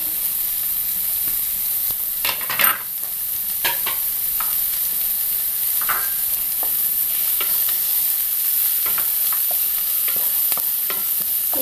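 Shallots sizzle in hot oil in a pan while cooking chow chow thoran, a steady frying hiss broken by occasional stirring scrapes and clicks, close and continuous with no voices.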